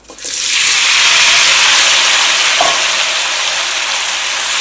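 Potatoes frying in a pan of hot oil with crushed dried chili for a Kerala mezhukkupuratti, a steady loud sizzle that starts with a burst as they drop in and holds, with a faint utensil tap.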